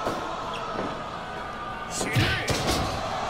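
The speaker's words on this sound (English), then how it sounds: "Double stomp." Two heavy stomps land in a wrestling video game, a pair of dull slams close together near the end, over a steady background hum with voices faintly present.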